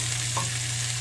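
Potatoes being stirred into browned onions in a frying pan for a mushroom dish: a steady sizzle over a low hum, with one brief scrape, lasting about a second.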